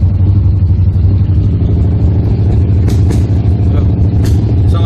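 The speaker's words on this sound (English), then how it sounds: "sound like the truck's about out of gas" Old work truck engine idling rough as it runs low on gas and starts to backfire, a steady close mechanical drone with a couple of sharp pops breaking through near the end.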